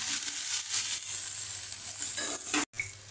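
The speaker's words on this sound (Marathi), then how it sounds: "कांदा आपण चांगला भाजून घेऊया." Onion with green chillies sizzling in a pan for upma, a loud, dense, continuous frying hiss with stirring scrapes, close up, cut briefly near the end.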